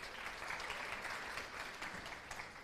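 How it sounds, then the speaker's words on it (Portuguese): Students applaud their classmate in a classroom: quiet, continuous clapping from a small group, sustained without pause. "Palmas para ele, gente, por favor."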